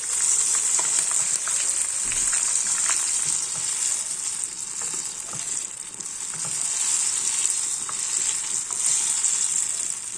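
Apple rolls deep fry in hot oil, giving a loud, unbroken bright hiss of bubbling with faint crackles throughout.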